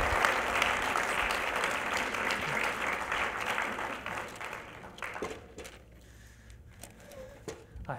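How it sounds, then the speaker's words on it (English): Audience applause at a live show, a full round of clapping that holds for about five seconds, then thins to scattered claps and fades quietly. "please give David a big round of applause"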